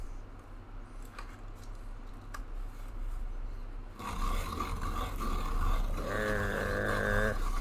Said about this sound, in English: Gotta sharpen it first.